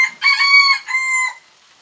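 A rooster crows nearby, one loud, ringing cock-a-doodle-doo with a brief break in the middle, then silence.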